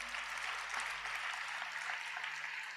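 Faint, distant applause from a church congregation at a Sunday service, a steady wash of clapping with no talk over it.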